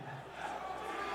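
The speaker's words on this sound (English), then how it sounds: "We get some DRX chants from the crowd." A stadium crowd at the League of Legends World Championship 2022 chants for DRX, a broad roar rising and holding steady with no clear individual voices.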